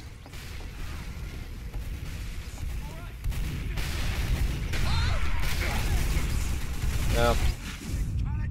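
Video game gunfire with hit and kill sounds, a dense burst of loud shooting and impacts with sharp chirping hit cues, under a player's occasional talk.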